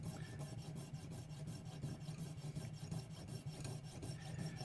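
A thin jeweler saw blade cuts through pot metal in a steady, rapid back-and-forth rasp, an even gritty scraping that keeps going without a break and stays fairly quiet and close.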